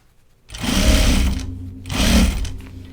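Sewing machine stitching a fabric backpack, two distinct runs of steady motor whir and needle chatter, each about a second long, with a short pause between them, close and fairly loud.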